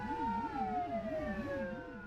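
A Korean fire truck's siren wails steadily during an emergency call-out through city traffic, a rising-and-falling yelp cycling rapidly and evenly over a sustained tone, loud and continuous with no talk.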